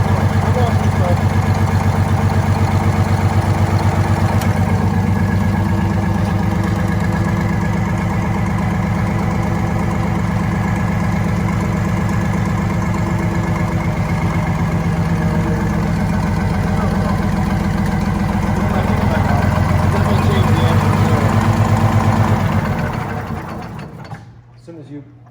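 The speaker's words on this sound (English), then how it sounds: "As soon as you compress number 2, the engine sound changed." A GM 4103 bus engine idles close by during a cylinder test, a loud, steady mechanical clatter with a fast regular knock that drops away and cuts out at the end.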